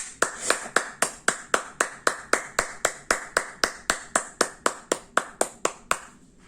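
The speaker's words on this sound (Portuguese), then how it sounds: "Quem gostou, bate palmas." Crisp hand claps at a reading hour, about two dozen in a row at a brisk, perfectly regular beat, close and clear with no voices, ending abruptly near the finish.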